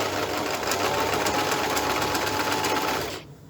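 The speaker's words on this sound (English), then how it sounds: "We're going to sew a couple of stitches and then press down, keeping pressed the reverse button, a few stitches and then continue forward." Sewing machine stitching a seam in fabric, a fast steady mechanical whir with rapid needle clatter that runs evenly, then stops abruptly near the end.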